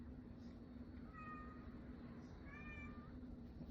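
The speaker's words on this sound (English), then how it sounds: "Dealing with the cat." A house cat meows twice, short rising-and-falling cries at moderate distance, over a steady background hum with no talk.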